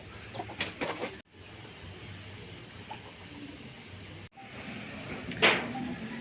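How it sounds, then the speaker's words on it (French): Fighting roosters cluck in an outdoor setting in Medellín, making scattered short calls amid background noise, with a few sharper sounds partway through. "Donc là vous avez des coqs de combat."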